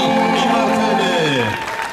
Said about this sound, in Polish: Wielkie brawa dla zwycięzczyń